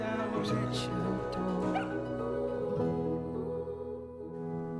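A puppy in a Super Bowl commercial barks and whimpers with small yips, its cries mixed into steady music and talk that carry through the whole stretch.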